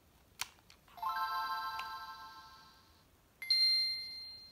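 A Game Boy Advance powers on with its startup chime: a click, then a bright shimmering tone that fades, followed by a second clear ding near the end, all fairly faint and heard alone without talk.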